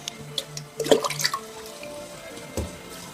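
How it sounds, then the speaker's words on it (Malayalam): Water is poured into a fish tank in short splashing bursts and drips, close by and fairly quiet, with no voices over it. "അപ്പം ഞാൻ നിറച്ച് ഇതിലേക്ക് ഒഴിച്ചു കൊടുക്കട്ടെ കേട്ടോ വെള്ളം"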